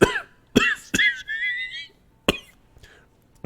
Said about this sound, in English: It's a nasty cough.